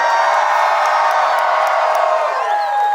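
An audience at a Knott's Scary Farm Nightmares Revealed show screams, whoops and cheers in a loud, continuous roar that holds steady for the whole stretch.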